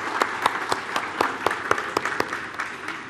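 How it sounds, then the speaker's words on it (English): Scattered applause from a small panel-discussion audience welcoming the panelists: a few loosely timed claps repeating steadily for about three seconds, moderately close, with no talking over it. "I would like to propose a clap of welcoming and thank you for the panelists."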